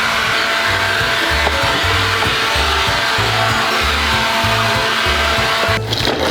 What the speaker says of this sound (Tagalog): Dito naman, uso yung leaf blower